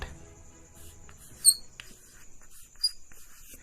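A pen or marker writing a note on a board during a chemistry class, faint scratchy strokes with two brief squeaks standing out over a quiet room.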